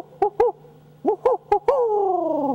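A human voice imitates an owl hoot with a call, giving several short rising-falling hoots in a broken rhythm and then one long drawn-out descending note, loud and close, with no talk.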